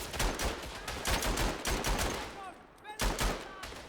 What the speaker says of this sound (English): got myself a trusty machine gun